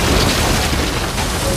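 A heavy, sustained boom of cannon fire in the game Uncharted 4 fills the clip, loud and dense like a rumbling blast without a break.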